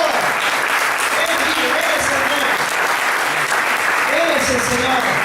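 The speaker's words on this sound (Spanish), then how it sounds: "¡Dale ese aplauso al Señor," Church congregation clapping together in steady, dense applause during a worship service, with voices calling out over the clapping throughout.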